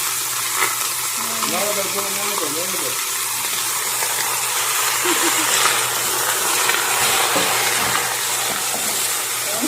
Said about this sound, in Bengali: পুরা মাংস, টমেটো, আদা রসুন একসাথে দিয়ে দিলে হবে।